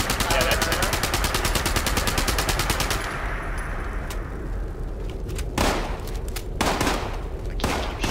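Rapid automatic gunfire rattles in a video game, a dense continuous burst for about three seconds, then scattered louder single shots and short bursts, with a player's voice partly mixed in.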